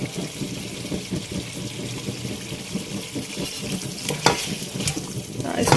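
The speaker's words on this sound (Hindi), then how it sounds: "इस क्रीम को भी अच्छी तरह इसमें मिक्स कर देना है" Cream being stirred into white mutton karahi in a hot pan, a steady sizzle of oil with scraping, stirring strokes of a spoon close by and no talk.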